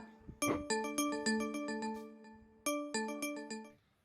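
A bright electronic phone ringtone chimes in a rapid repeating melody of clear tones, pausing briefly before starting the sequence again, loud and close.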